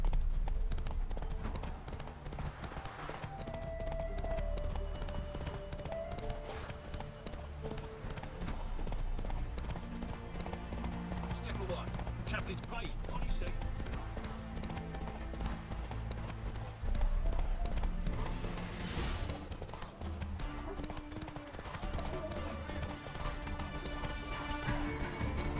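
Horse hooves gallop at a steady, continuous rhythm in The Witcher 3: Wild Hunt, the clip-clop carrying throughout under game music and ambience, with a brief whinny.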